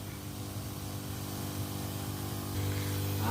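A 5-litre V Star battery-powered garden sprayer emits a continuous close hiss of spray over a steady motor hum, the tone thickening slightly near the end.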